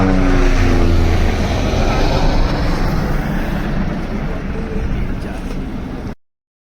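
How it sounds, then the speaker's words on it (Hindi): An army helicopter flies an aerial survey over Kedarnath Dham in 2013. Its loud, steady rotor and engine drone dominates, thins slightly over time, then cuts off abruptly. "सेना का एक हेलीकॉप्टर हवाई सर्वे करने के लिए केदारनाथ धाम में उड़ान भरने आया"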